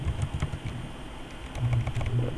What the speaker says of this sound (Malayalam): അപ്പോൾ ജസ്റ്റ് ഒന്ന് പേര് നമ്മൾ ടൈപ്പ് ചെയ്ത് കൊടുക്കുക.